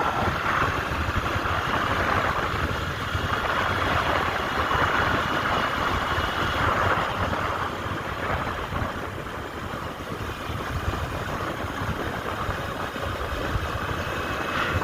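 A motorcycle with a failed engine bore rides at speed on a village road, its engine droning steadily and mixed with continuous wind rush for the whole stretch, with no voices.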